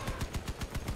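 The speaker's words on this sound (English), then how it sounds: "Oh, he's using machine guns as well." Rapid machine-gun fire from the vehicle combat game Crossout, a tight, even stream of about seven loud shots in a single second with no talk over it.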